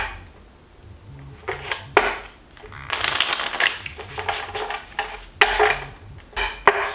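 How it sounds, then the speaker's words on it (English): Tarot cards being shuffled in quick bursts of riffling and sliding, with brief pauses between handfuls, close and fairly crisp over a low background hum. "So I'm gonna give a few quick shuffles."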